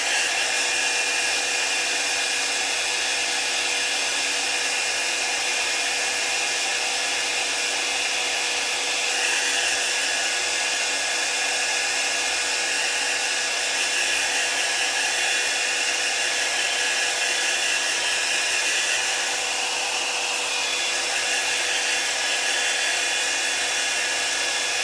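A hair dryer blows steadily and loudly at close range for the whole stretch, drying a chalk craft project with no pauses.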